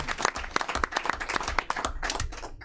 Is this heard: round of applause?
yes